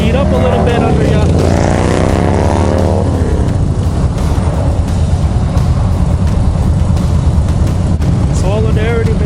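A large group of motorcycles riding together in a solidarity rally, a dense continuous engine roar filling the scene with rising revs early on, loud and close throughout.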